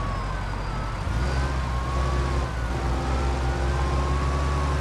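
A police car siren wails in the Mafia 2 video game during a chase, a moderate wavering tone over a low rumbling car engine that deepens partway through.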